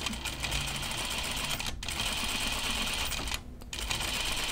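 Sewing machine running steadily while stitching through a thick folded facing on a Tea House dress, a continuous fast mechanical whir with two brief pauses.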